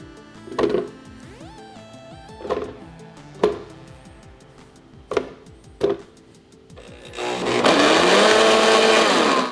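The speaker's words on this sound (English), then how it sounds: "never put a pineapple in large chunks into your blender because it's not gonna do anything" Blender chopping large pineapple chunks: several loud separate thuds and clunks as blades strike the fruit, then a sustained roaring whir as the motor runs steadily at the end, close and loud.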